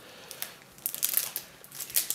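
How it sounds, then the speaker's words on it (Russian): Soft crinkling and rustling of a small thin plastic bag being opened, with a few sharper crackles, close by and fairly quiet. "Ну открывай тогда вот этот пакетик маленький."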